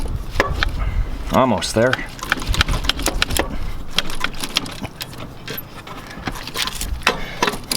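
Screwdriver prying and wiggling a loose alternator on a 1997-2006 Chevy truck with a 4.3L engine, giving sharp irregular metal knocks, scrapes and clunks close up, with someone speaking briefly over the work.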